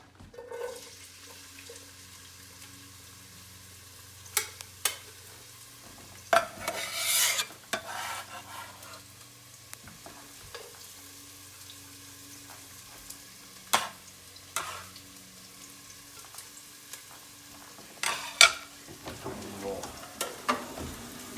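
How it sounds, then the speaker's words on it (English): Onions sizzle softly in oil for tortilla soup, with occasional scraping stirs of a utensil through the pan, quiet and steady beneath faint kitchen noise. "Stir those all around the oil, get them softening up."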